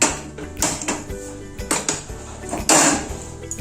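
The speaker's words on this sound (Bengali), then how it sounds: "কড়াই বসিয়ে দিলাম।" Metal kadai wok being set down on a gas stove, a series of close metallic clanks and scrapes, several sharp knocks spaced irregularly, with no talking.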